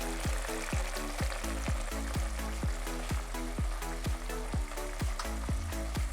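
Tomatoes cook in a pan for a potato curry, giving a steady close sizzle under a regular beat of spoon strokes scraping the pan, alone with no talk.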